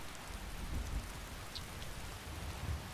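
Steady rain falls in Skyrim, a dense continuous hiss of drops on surfaces with low rumbling undertones, even and unbroken throughout with no voices.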